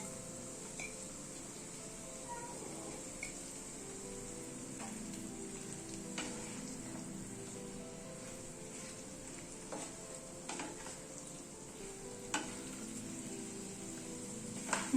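Chicken sizzles and fries with ground spices in a pan over a lowered gas flame, a steady close hiss broken by occasional stirring clinks of a utensil against the pan.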